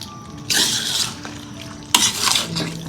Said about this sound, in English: mixed and infused with the spices. It needs a lot of stirring